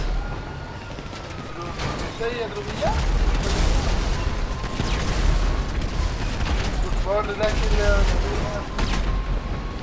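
Explosions and booming blasts from a tank battle in the video game GTA 5 Online, several heavy rumbling bursts and crackling debris over a few seconds, with people talking over the action.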